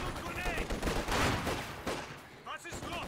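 Scattered gunfire in a firefight near fuel tanks in Company of Heroes 2, rattling shots and a few louder bursts at mid distance, mixed with battlefield noise and faint shouted voices.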